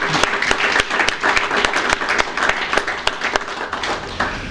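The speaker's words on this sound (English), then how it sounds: "I think that deserves clearly a round of applause" Audience applause at a Hyundai event, loud and continuous with distinct individual claps standing out, a roomful of hands clapping without a break.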